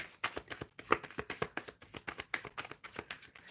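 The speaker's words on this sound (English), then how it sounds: "So Lily, I'm shuffling for Lily for her love life." Tarot cards are shuffled up close in a quick, steady rhythm of crisp riffling flicks and soft slaps that carries on throughout, with no talking.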